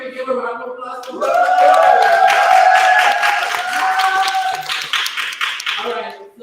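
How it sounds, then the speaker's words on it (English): A Pride event audience breaks into a short round of applause, scattered claps rising under a voice that carries on speaking across most of it before the clapping fades out. "Can we give a round of applause for"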